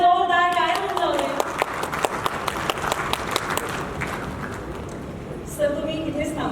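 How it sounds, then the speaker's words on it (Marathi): Applause for guests at a Bigg Boss Marathi season 6 press conference, a steady patter of many hands clapping with voices talking over and around it, fading near the end as a speaker resumes. "मान्यवरांसाठी एका जोरदार टाळ्या होऊन जाऊया"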